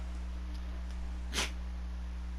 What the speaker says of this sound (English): Now you're gonna sneeze?